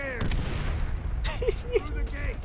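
Point-shooting gunfire in the video game Call of Duty: World at War, with several sharp shots and booms in quick succession over a rumbling battlefield background, while a voice talks over the action.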